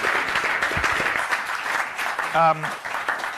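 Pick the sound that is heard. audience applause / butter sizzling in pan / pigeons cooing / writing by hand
audience applause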